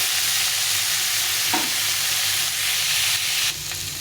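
Pumpkin and potato chunks sizzling in oil as they are stirred around a pan, a continuous crackling fry with a brief scrape of the spoon partway through and a slight drop in intensity near the end; no one speaks.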